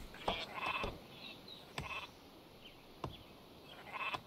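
Sheep bleats from the armored war sheep unit in the strategy game Northgard come in short, separate calls, several spaced across a few seconds over a faint background hiss.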